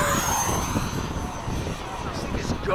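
A Freewing 80mm F-5 RC jet flies at midday at a flying field, its steady ducted-fan whine and rush carrying continuously at moderate distance, with people talking faintly nearby.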